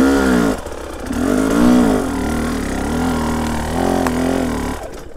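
A moped engine revs hard under throttle while climbing a slope with a rider aboard, its loud buzzing drone rising and falling in pitch through several surges, up close and continuous.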